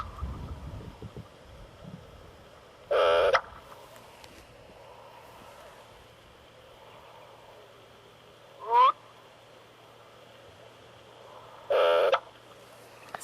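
Three short, hollow popping calls of a black-bellied bustard ring out at spaced intervals against a quiet background with a faint steady hum.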